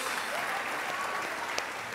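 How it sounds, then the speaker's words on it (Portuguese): A church congregation applauds in a steady, dense wash of clapping that stays even for the whole moment. "Você pode aplaudir a Jesus pelo que Deus está fazendo aqui?"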